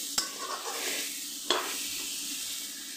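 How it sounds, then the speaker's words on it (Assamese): Raw mango pieces with turmeric fry in a pan over medium-low flame, giving a soft, steady sizzle broken by two sharp spatula clicks against the pan, heard alone without talk. "এনেদৰে মই 2 মিনিট সময় ভাজিম।"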